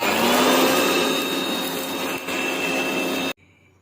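Electric grinder whirring steadily as it powders cornflakes, cumin and semolina together in a kitchen, a loud continuous motor drone that cuts off abruptly near the end.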